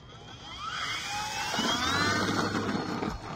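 An RC Air Bike 103 ultralight model airplane flies overhead, its electric motor giving a buzzing whine that climbs and sweeps in pitch as it passes, fairly close and steady.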